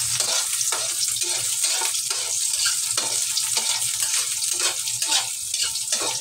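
Onions sauté in leftover frying oil in a pan while tofu adobo with baguio beans is cooked, giving a loud continuous sizzle with rhythmic stirring scrapes throughout, close and alone.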